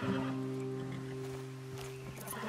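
A horse whinnies over a steady low drone with faint hoof clatter in an in-game Red Dead Redemption 2 scene, fairly quiet and brief.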